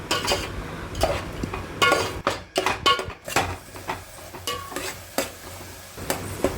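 Tomatoes and onions stirred in a pan with a spoon, continuous scraping and clattering strokes over a soft sizzle, loud and close, without any speech.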